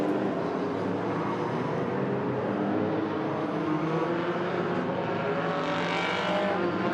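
Hornet enduro race cars roar around the Agassiz Speedway road course in British Columbia. The engine drone is continuous and dense and stays loud and steady throughout, with no clear separate passes and no commentary over it.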